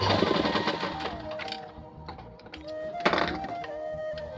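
A tailor's sewing machine stitches a lungi, its motor whirring continuously and close up with a few pitch shifts as the seam runs, with no voices.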